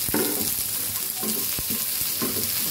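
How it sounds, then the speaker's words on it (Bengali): Dried taki fish fries in hot oil with turmeric in a pan, giving a steady close sizzle with occasional stirring scrapes and clicks, and no voices. "আমি শুটকি আগে ভেজে নিব, হালকা করে ভেজে নিব"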